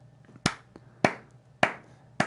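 Hand claps keep a steady rhythm for guitar practice, four sharp, evenly spaced claps ringing out close and clear with nothing else sounding.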